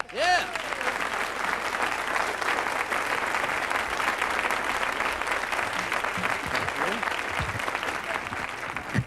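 Sustained studio audience applause welcoming a comedian to a 1989 standup stage, steady dense clapping from start to finish with a brief spoken word near the beginning.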